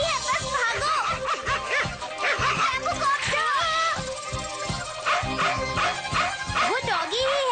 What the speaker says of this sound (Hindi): वो डॉगी ही है, भाव भाव कर रहा है।